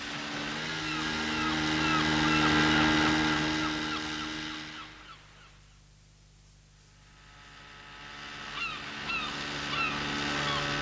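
A dense chorus of thousands of seabirds calls over a steady rushing noise, fading briefly in the middle before the crowded calling swells again.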